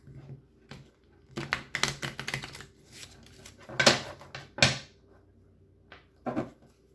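Tarot cards being shuffled in quick riffling bursts with pauses between, close and crisp, along with a few soft taps.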